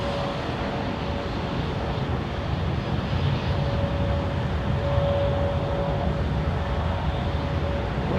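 Airbus A300 taking off at London Heathrow Airport, a steady broadband engine roar with a sustained tonal whine, continuous and fairly loud throughout with no talking.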